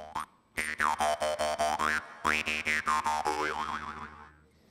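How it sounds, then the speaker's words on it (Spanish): A jaw harp twangs in a quick series of plucks, its wobbling overtones shifting in pitch, close and fairly loud with no voices. "es un arpa bucal, suena así."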